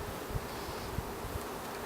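Honey bees buzz during installation into a hive, a steady low hum that stays even throughout, close by and alone.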